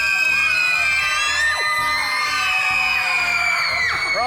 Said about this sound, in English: I want you to put your hands in the air and scream as loud as you can.